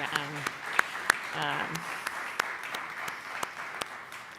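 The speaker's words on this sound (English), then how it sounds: "Can we have another round of applause for Mandy?" Audience applause at a community event, a steady patter of many hands clapping throughout, with a few sharper individual claps standing out and brief voices heard over the start.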